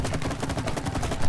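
Rapid video game gunfire, a dense, loud burst of repeated shots in quick succession, close and continuous with no pauses.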